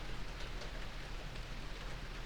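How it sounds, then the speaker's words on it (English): Rain pours outside during a storm, a faint, steady wash of hiss and patter with no voices. "can everybody hear the rain?"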